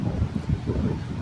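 Outdoor wind buffeting the microphone, a loud continuous low rumble with gusty swells and no voices.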